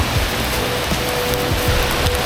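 Steady rain near Pongour waterfall in Da Lat, Vietnam, a dense loud hiss of drops pattering on surfaces close by, continuous throughout.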